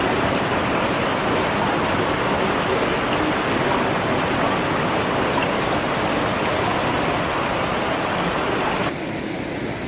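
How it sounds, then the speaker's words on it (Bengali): The Usri waterfall, where the Usri river drops about 12 metres into a gorge, roars as a loud, steady broadband wash of falling water that does not let up, dipping slightly in level at the very end. "একদিকে ঝর্ণার কলরব"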